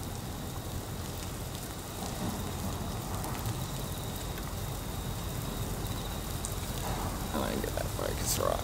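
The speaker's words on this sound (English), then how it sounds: "on a very wet and rainy day" Steady, dense patter of rain pours down throughout at the Sydney Harbour entrance, with a wash of broadband noise and occasional faint background sounds.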